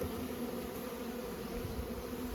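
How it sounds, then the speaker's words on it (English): Honey bees buzz in a steady, soft drone as they fly around a row of hives at a dock, a continuous swarm hum with no voices. "If I back up, you can see all the bees flying around."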